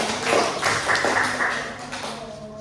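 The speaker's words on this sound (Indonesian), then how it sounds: "Boleh tepuk tangan semua." Students in a history lesson applaud briefly, a short burst of scattered claps in a small room that fades within a few seconds.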